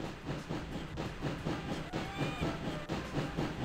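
A train runs steadily in the Sheep, Dog 'n' Wolf video game on PS1, a continuous rumbling clatter with hiss and faint squealing tones that stays loud and even throughout, with no talking.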